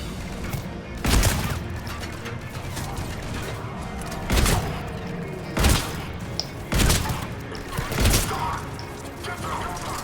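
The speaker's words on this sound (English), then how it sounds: "Time to switch to the shotgun." Shotgun blasts in the video game Mass Effect 3, about five heavy booming shots spaced irregularly over a dense backdrop of game noise and combat clatter.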